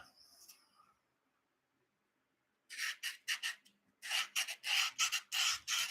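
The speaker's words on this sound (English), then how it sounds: "So until I do that, I'm kind of stuck hand sanding." Brisk back-and-forth hand sanding of a wooden tray with sandpaper, a quick burst of strokes followed after a brief pause by a longer run of rhythmic rasping.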